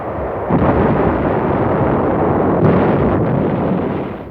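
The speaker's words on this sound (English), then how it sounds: "Every shore battery fired and was pinpointed for later destruction by air and naval bombardment" Heavy, continuous rumbling roar of Inchon landing shore battery fire and naval bombardment, loud and sustained with a few stronger bursts standing out from the barrage.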